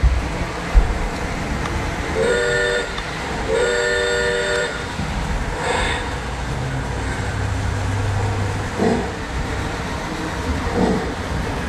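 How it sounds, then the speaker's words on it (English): A model steam train engine runs steadily with a rumbling chug, and two short horn blasts sound near the start, followed by softer clanks. "I just want to show you how much steam this engine gets."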